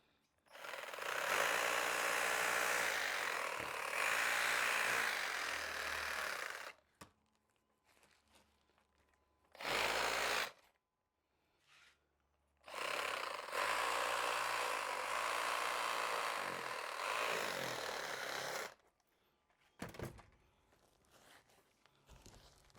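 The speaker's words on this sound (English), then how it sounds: "We use this reciprocating tool." A reciprocating power tool saws through the roots of a corky-bark Buxus harlandii boxwood during repotting, running in two long loud bursts with a few short bursts between and after, close and alone.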